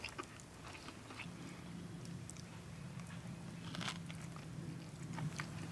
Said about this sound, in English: Just like a fish taco, you got that crunch.